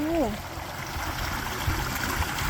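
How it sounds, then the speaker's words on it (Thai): Continuous soft rushing of water flowing through a rice field outdoors, with a brief voice-like tone at the start. "อู้น้ำไหลแบบ น้ำไหลเนาะ"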